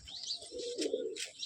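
A pigeon gives a short, soft, throaty coo with faint chirpy overtones, close by and quiet, lasting just over a second.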